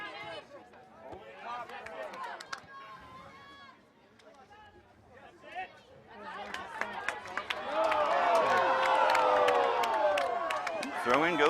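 A home crowd at a girls' varsity high school soccer match reacts loudly with cheers and shouts, swelling into a sustained roar, while a commentator's voice and scattered chatter sit underneath.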